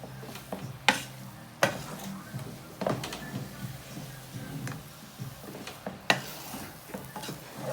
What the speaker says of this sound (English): I'll be stirring.